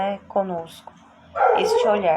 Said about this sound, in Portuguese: Peço desculpas pelo barulho aqui, o cachorro,